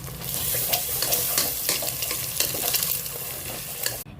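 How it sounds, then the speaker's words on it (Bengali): Pieces of chicken fry in a pan for pasta, giving a steady close sizzle broken by scraping stirs, ending abruptly without any voices. "আমি চিকেনগুলো ভেজে নিচ্ছি পাস্তার জন্য।"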